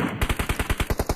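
Rapid automatic gunfire in the mobile battle royale game BGMI, a steady burst of about ten evenly spaced loud shots in just over a second, with no voices.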